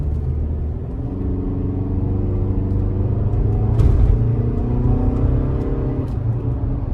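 Engine of a 2021 Toyota RAV4 Adventure driving up a slight incline: a loud steady drone with rising harmonic tones as the engine pulls, and a brief shift partway through.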